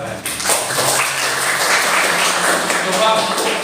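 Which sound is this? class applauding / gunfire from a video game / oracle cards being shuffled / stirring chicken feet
class applauding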